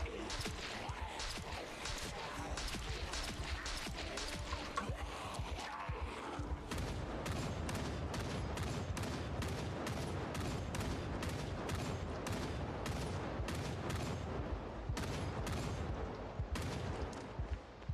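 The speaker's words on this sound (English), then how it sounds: "This is super risky shooting." Rapid, sustained gunfire from Project Zomboid fills the whole stretch, with dense overlapping shots early that settle into a steady, loud volley of sharp reports.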